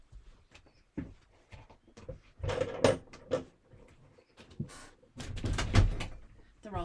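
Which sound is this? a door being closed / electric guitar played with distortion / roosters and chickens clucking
a door being closed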